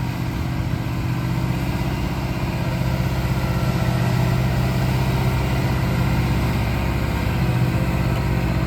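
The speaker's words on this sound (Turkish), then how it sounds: "traktör çok aşırı zorluyor" A heavy Fendt 313 tractor engine drones loudly and continuously, laboring under load while levelling a wheat field, with a dense, rumbling tone.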